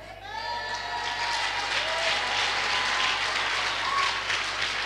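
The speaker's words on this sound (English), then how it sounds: "if that clap is for Jesus, it can be better" Church congregation applauding during a testimony service, a dense, steady wash of many hands clapping that carries on for several seconds, with some voices and cheers mixed in.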